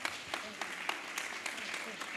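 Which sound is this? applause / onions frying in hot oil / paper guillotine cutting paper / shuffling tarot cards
applause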